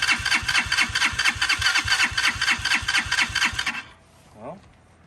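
Honda Hawk 250 motorcycle cranked on choke in cold weather, a rapid rhythmic starter chugging for nearly four seconds that then cuts off, followed by a brief voice in the quiet.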